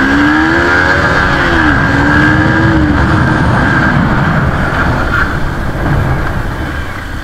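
A motorcycle engine, a Bajaj RS200 or Yamaha MT-15, hums steadily while riding, its pitch rising and dipping with the throttle amid rushing wind noise.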